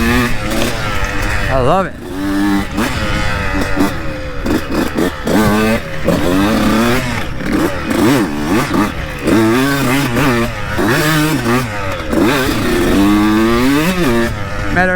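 A 2002 Honda CR125 two-stroke dirt bike on a trail, revving loud and close with rapid throttle blips and rising whines throughout, while a rider talks briefly over it.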